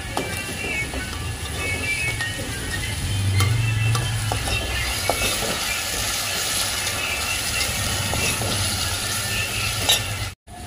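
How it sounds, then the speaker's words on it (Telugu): Onions with ginger garlic paste sizzling steadily in a pan for making boti curry, a dense continuous frying hiss with faint stirring and a few clinks, close up and without speech. "ఆనియన్ అన్ని ఫ్రై అయినాక అల్లం వెల్లుల్లి పేస్ట్ వేస్తాం."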